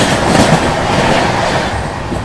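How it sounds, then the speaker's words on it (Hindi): The Raigarh-Gondia Jan Shatabdi Express rushes past close by with a loud, continuous roar of wheels and rattling carriages, and no voices. "रायगढ़ गोंडिया जनशताब्दी एक्सप्रेस।"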